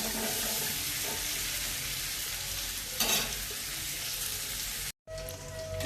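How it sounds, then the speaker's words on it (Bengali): Pieces of elephant foot yam and potato fry lightly in a pan, giving a steady close sizzle with a stirring scrape partway through and a brief cut in the sound near the end. "এবার ওলা আলুটাকে একটু ভেজে নেব হালকা করে, বেশি ভাজতে হবে না।"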